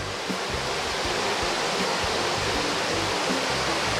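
Saeng Chan Waterfall in Ubon Ratchathani, Thailand, in the rainy season, roars with a dense, steady rush of falling water, loud and close, with no pauses.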